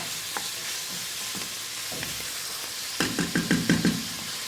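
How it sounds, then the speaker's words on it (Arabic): Ginger and spices fry in a pot with a steady sizzle, while a utensil scrapes and knocks against the pot in a quick run of taps near the end. "ونخلط هاد المكونات ونخليهم يتشحروا واحد شويه"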